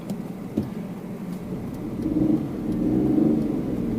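A Hyundai i10 small hatchback is driven onto a main road, its engine hum and cabin rumble rising steadily as it accelerates, heard from inside the car.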